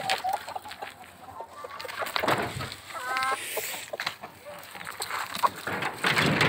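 Chickens cluck faintly and intermittently as leftover grass is scattered for them outdoors, amid soft background noise.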